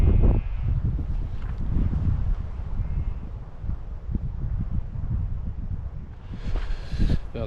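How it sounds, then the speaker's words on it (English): Wind gusting across an exposed Peak District hillside near Alport Castles, a steady broadband rush buffeting the microphone, swelling louder toward the end. "The wind's picking up a little bit"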